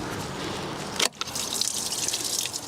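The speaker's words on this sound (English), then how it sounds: "Should have some coolant come out here." Coolant runs and drips from disconnected hoses on a BMW N47 diesel engine during an oil filter housing gasket replacement, a close, steady wet trickle with a brief break before it resumes, no talking.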